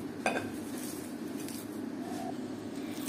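Chicken kofta mixture worked by hand in a bowl with cardamom, cinnamon and cloves, giving soft squelching and a few light clinks of dish and utensil, close and quiet, with no talking.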